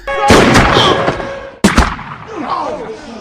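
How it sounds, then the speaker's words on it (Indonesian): A guard fires rubber bullets at a prisoner in the prison film The Last Castle, giving two sharp, loud shots about a second apart with echoing tails. Faint voices sit underneath. "Sang penjaga dari atas menembaknya dengan peluru karet."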